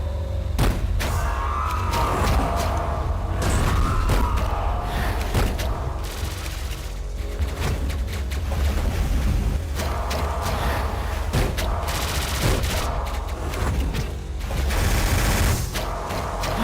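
Big pistol firing in Hyper Light Drifter, a rapid string of sharp, punchy shots and impacts in irregular bursts over constant game music and effects.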